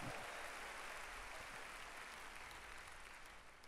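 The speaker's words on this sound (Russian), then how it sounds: "Воздайте Господу большие аплодисменты." Applause from a congregation during a church worship service, a steady wash of many hands clapping that stays loud throughout and eases slightly near the end, with no talk over it.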